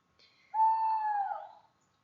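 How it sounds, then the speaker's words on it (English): A single owl hoot, one sustained clear tone that slides slightly downward before fading, heard alone against silence. "there was the sound of an owl in the background"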